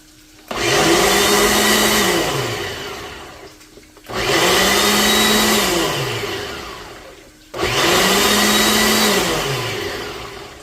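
A blender pureeing hot chili peppers into a smoothie runs in three loud bursts, each whirring up to full speed and winding down, with short pauses between, close and dominant.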